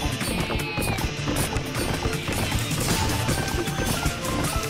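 A horse gallops in the video game Sengoku Basara 2 Heroes, with rapid hoofbeats buried in a dense, continuous wash of battle sounds and clashing effects.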